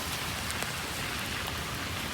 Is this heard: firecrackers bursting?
no